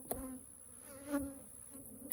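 Honey bees buzz faintly and steadily in an open hive fitted with added frames, a few bees passing close for brief louder drones.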